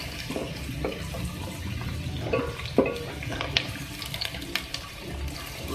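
Beef and potatoes fry in a pan for aloo gosht, a steady sizzle with occasional stirring clinks and scrapes, close and moderately loud, with no talking.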